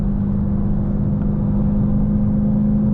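A Dodge Challenger Hellcat Redeye drives along with a steady, deep engine drone that stays loud and even throughout.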